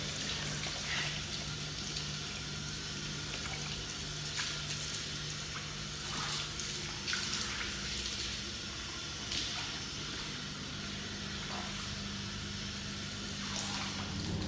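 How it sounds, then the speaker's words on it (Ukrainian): Steady hiss of running water spraying from a hose onto a car during a detailing wash, continuous and close, with occasional splashy bursts as it hits the surface. "висушили наш автомобіль за допомогою води, з проточної води, з шлангу"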